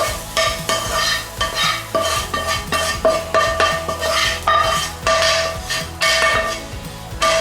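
Coriander roots frying in a hot pan while a utensil stirs and scrapes in quick rhythmic strokes over a constant crackling sizzle, close and fairly loud with no speech.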